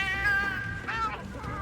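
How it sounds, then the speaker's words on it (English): A cat meows in the Monster Hunter Wilds video game, a single drawn-out, wavering meow close and fairly loud over soft background game ambience. "the cat might be more annoying in its feline form"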